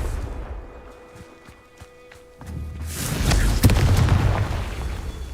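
A Confringo blasting curse explodes in Hogwarts Legacy, a sudden loud boom rising out of quieter ambience and rolling on with a sustained fiery roar.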